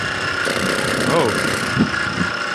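Solex 1400 moped engine with the throttle opened, a steady buzzing motor note running throughout the short stretch, close by with a slight swell in the middle.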